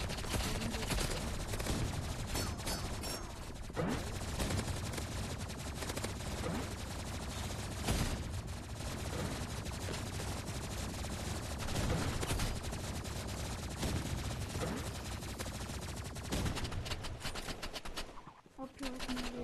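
Rapid automatic gunfire and repeated shots from the video game Rivals rattle on continuously at moderate level, with bursts and brief gaps throughout.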